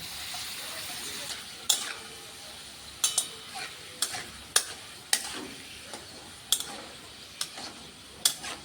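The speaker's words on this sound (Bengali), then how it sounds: "তেলটা গরম হয়ে গেল, এবার আমি পাঁপড়গুলো ভেজে নিচ্ছি" Potato papads frying in hot oil, a steady broadband sizzle with sharp intermittent clicks and pops from utensils or bursting bubbles scattered throughout.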